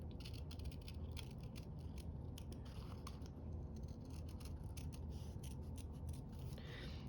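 Scissors snip and scrape steadily through paper being cut out for a junk journal, close-up, quiet and repeated in short strokes over a low background hum, with no talking.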